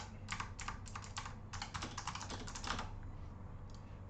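Bursts of rapid keyboard typing, clattering in short runs with brief pauses, close and moderately loud over a steady low hum.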